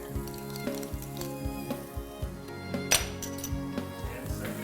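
Minced garlic and ginger dropped into hot oil for a Chinese dish, a light sizzle punctuated by regular metallic clinks and taps of a utensil against the wok, close and moderately loud.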